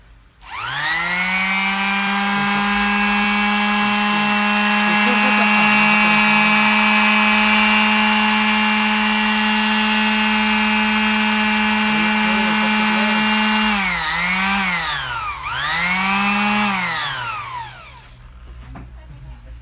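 A Makita BO4565 orbital sander switches on and runs with a loud, steady motor whine close by. Near the end it winds down, revs back up briefly, then stops.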